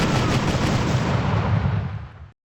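Gunfire from the Close Combat Modern Tactics strategy game roars as a dense, continuous burst of loud shots and explosions, cutting off abruptly after about two seconds.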